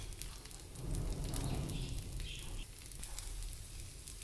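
An onion and tomato uttapam sizzling in oil on a pan, a steady, soft, close hiss and crackle of frying that continues without pause, low in level and with no voice.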